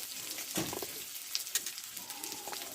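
Tomato sautéing in a pan with turmeric and salt, a soft sizzle with scattered stirring clatters, fairly quiet and close.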